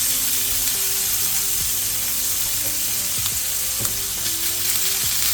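Chicken fat sizzling steadily in a frying pan, a loud continuous crackle and hiss with faint stirring knocks, close up and alone.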